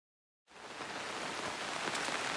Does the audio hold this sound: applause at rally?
no